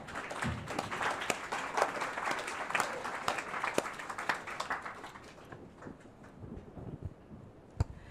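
Residents at a monthly meeting applaud three honored neighbors, a lively burst of many hands clapping that gradually thins out and fades, ending in a few scattered claps.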